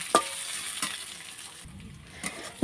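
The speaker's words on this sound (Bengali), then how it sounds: "পেঁয়াজটা আমি 2-3 মিনিট ভেজে নেব।" Chopped onion fries in a wok over a stove, a close steady sizzle broken by a few sharp scraping stirs of a spatula against the metal.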